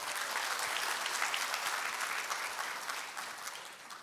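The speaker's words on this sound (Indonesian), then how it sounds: "beri tepuk tangan untuk kita semua." An audience at an Indonesian company introduction seminar applauds together, a dense, even roar of many hands clapping in a large room, holding steady before slowly tapering off.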